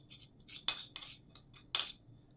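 A spoon stirs NILA powder face mask mixed with rose water in a small bowl, giving a few light, quick clinks and scrapes, soft and close, with no talking.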